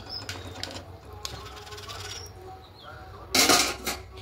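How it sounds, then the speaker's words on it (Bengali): A spoon scrapes and clinks in a pan while aloo dum potato curry with garam masala and ghee is mixed, with light intermittent clatter and one louder burst of scraping near the end. "এবার খুব ভালো করে মিশিয়ে নেব"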